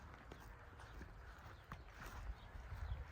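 A working draft mare with her young foal move about outdoors, their hooves giving soft, uneven clip-clop steps close by over a steady low rumble of wind and ambient noise.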